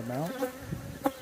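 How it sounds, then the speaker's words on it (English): Honey bees buzz close around a beekeeper working an open hive, a brief rising and falling drone with a short word spoken over it. "I've got some bees all around me."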